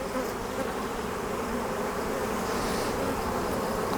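Honey bees buzzing around an open hive during a swarm-prevention inspection, a dense continuous hum filling the air at close range, steady and loud with no voices.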